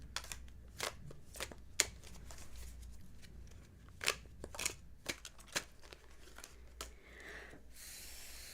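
A deck of tarot cards is shuffled by hand in a quiet room, a series of crisp riffling snaps and soft slides with irregular pauses, close and fairly faint.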